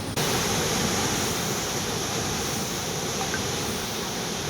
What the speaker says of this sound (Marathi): इथला वाजर बंधाराही तुडुंब भरलाय त्यातून पाण्याचं असं मार्गक्रमण सध्या सुरू आहे